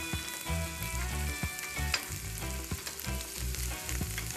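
Asparagus spears sizzling and being stirred in a hot pan, steady frying crackle with rhythmic scraping of the utensil, close and clear with no voices.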